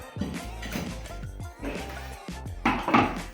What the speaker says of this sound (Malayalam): നന്നായി നമുക്കിത് അരച്ചെടുക്കാം